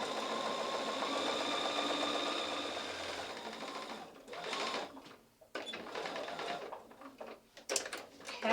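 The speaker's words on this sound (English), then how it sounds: "we're going to sew 1/4 of an inch all the way around" A sewing machine stitches a quarter-inch seam in quilting fabric, running in a steady close whir for several seconds, then slowing into short stop-start bursts with faint handling noises.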